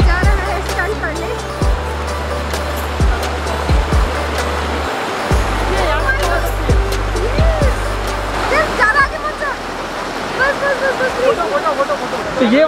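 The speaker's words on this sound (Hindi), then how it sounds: "ये देखो यही है छोटा झरना" A small waterfall in Manali roars with a steady, loud rush of falling water close by, while people talk over it now and then.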